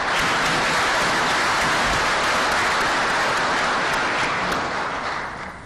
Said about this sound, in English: vous demande d'applaudir chaleureusement pour exprimer la gratitude de la communauté financière à son égard